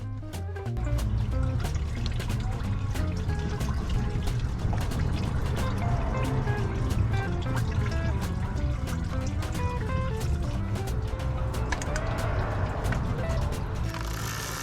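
Coolant drains from the radiator drain plug of an 80 Series Land Cruiser, a steady close trickle and splash running throughout, with talk over it.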